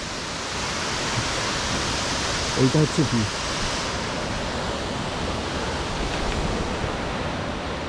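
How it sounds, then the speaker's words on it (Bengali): Leke Leke Waterfall heard from a trekking path viewpoint, a steady broad rushing roar of falling water filling the whole clip, with a brief spoken remark over it. "এই জায়গা থেকে ঝর্ণাটা দেখা যাচ্ছে।"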